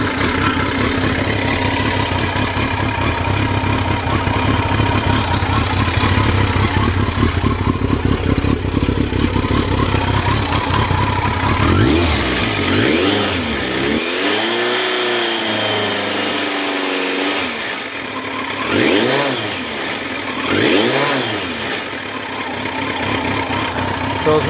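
A 1982 Yamaha Seca 650 Turbo motorcycle engine idles steadily up close with a loud, constant rumble, then blips and revs rise and fall several times toward the end.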